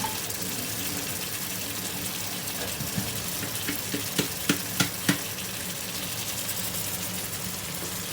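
Water splashes and trickles steadily as it drains from soaked peas, with a few sharp clinks of a container near the end.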